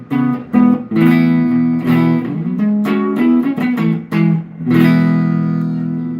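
Electric guitar on the neck pickup playing a run of sustained chords and single notes, loud and fairly warm, with no talking.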